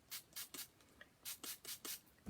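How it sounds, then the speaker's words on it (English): Water spray bottle misting a textured mixed-media bottle to move paint colour around, about seven short hissing bursts in two quick groups, close and fairly soft with no talk. "you're going to take your water spray and we're going to spray it so you move that colour"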